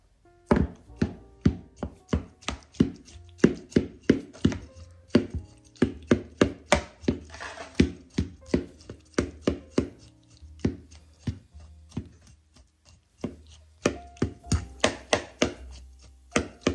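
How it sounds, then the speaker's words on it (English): Apples chopped with a knife on a cutting board, a long run of loud, close, evenly spaced thunking chops with a few brief pauses between bursts. "I forgot to cut up my apples."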